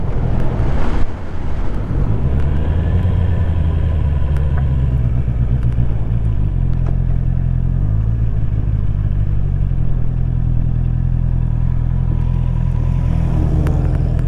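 A Jeep rolls past at a reliability run for pre-1960 classic vehicles, its low engine rumble steady and fairly loud throughout, with wind buffeting the microphone outdoors.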